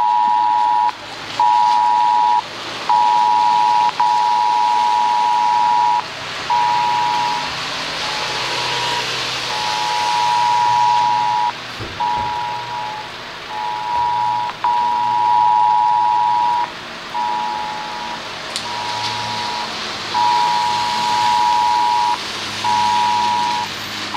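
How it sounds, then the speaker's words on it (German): A mobile phone warning alarm sounds on Germany's national warning day, 8 December 2022, in Duisburg, repeating loud, even electronic beeps in a steady on-off pattern above a constant background rumble. "Mein Handy klingelt immer noch."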